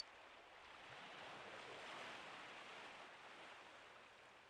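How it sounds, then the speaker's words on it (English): Ocean waves in Persona 4 Golden wash in as a steady, soft broadband roar that swells slightly and fades. No voices or other sounds are present. "The only sound you hear is the crashing of the waves."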